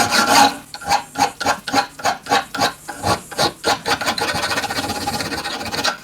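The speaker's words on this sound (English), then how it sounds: "fettling is just cleaning up the casting, removing any of the parting line where you get sort of excess metal. I've already done a bit of this, and it's just done with a round file" A round file rasps back and forth across a cast brass machinist hammer casting while fettling away the parting line, about a dozen distinct rhythmic strokes close up, quickening into shorter, faster scrubbing toward the end.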